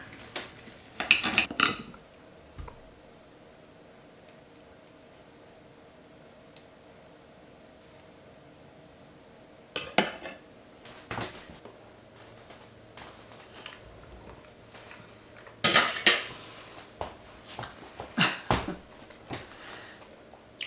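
Cutlery clinking and scraping on plates during a meal of oyster patties, in scattered bursts of sharp clatter with quiet stretches between and no talk.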